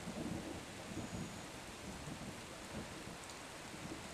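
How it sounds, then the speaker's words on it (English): Steady rain pours in a constant hiss while low thunder rumbles faintly in the distance, fairly quiet overall, with no voices. "the rain's not going to die down, but the lightning and the thundering"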